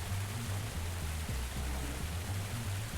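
A waterfall in the puzzle adventure game Obduction, heard as a steady broad rushing roar of falling water, constant and enveloping, with low tonal hum patterns underneath.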